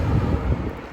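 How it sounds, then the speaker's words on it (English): A breezy, sunny day outdoors brings steady low wind rumble buffeting the microphone, a continuous close roar with no talk. "it's just a little breezy"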